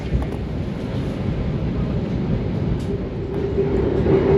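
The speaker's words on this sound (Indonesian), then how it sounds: "Dan ada kontainer, ada kereta barang." A freight train with container wagons passes near Semarang, a steady heavy rumble with rolling wheel noise and some wind buffeting, no talk.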